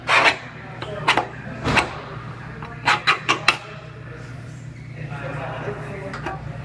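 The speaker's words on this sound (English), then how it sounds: "I'm gonna go ahead and I'm gonna scribe my cut line." Scribing a cut line on a Ford car's quarter panel where the new panel overlaps, giving short scraping rasps in a few bursts, close and fairly loud, over a steady low hum.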